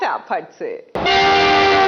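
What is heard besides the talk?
train sound effect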